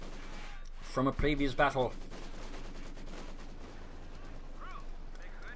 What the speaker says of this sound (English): MG 34, got the maximum pulling up here, engaging the fascists behind the wreckage of a Panzer IV